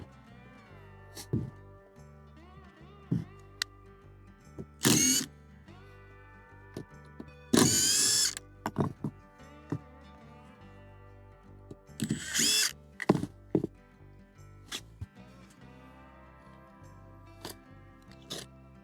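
Drill driving screws into wood wall framing, with several short loud whirring bursts at irregular intervals between quieter knocks and handling sounds.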